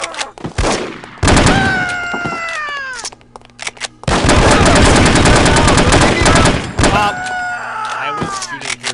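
Rapid automatic gunfire and single shots in the spy video game No One Lives Forever, loud and dense in long bursts, with game voices speaking between the volleys.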